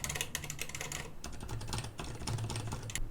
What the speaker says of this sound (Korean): 거북선과 비교해보면 스위치를 눌렀다가 떼었을 때 나는 리턴음의 차이가 크네요